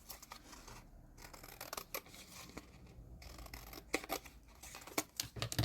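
Paper doll craft scissors cutting away a wide white paper frame, a run of crisp snipping and crunching cuts of varying strength, close and alone with no talk.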